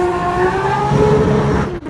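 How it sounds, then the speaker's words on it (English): A 1250hp Toyota Supra drag car at full throttle, wheelspinning hard: a loud, close, high-pitched engine scream with rising tone that cuts off abruptly near the end. "Wheel spinning really hard into second gear now."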